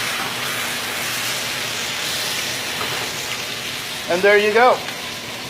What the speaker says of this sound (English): as we're searing the end of it for a nice, fantastic, juicy